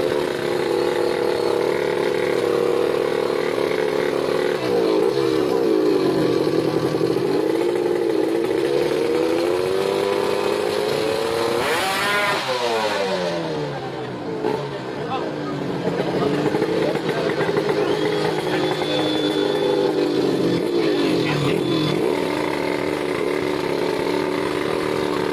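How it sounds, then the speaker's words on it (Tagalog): Motorcycle engine from Indonesia running under test, a loud sustained drone with several rising and falling revs, and a swelling rev near the middle, while someone talks over it throughout. "Ang motor ng pinakamatulin sa Indonesia."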